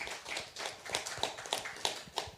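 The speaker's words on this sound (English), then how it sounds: "And a round of applause for these folks" An audience at a panel discussion on Appalachian records gives a round of applause: scattered, uneven claps that swell and fade in a loose rhythm at moderate volume, with no talking over them.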